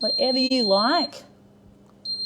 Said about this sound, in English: Sorry for that beeping as well.